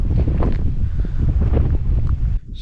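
Strong wind in the open near Alice Springs, Central Australia, buffeting the microphone with low, rumbling gusts that roar continuously before dropping off abruptly at the end.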